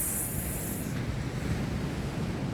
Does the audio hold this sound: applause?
no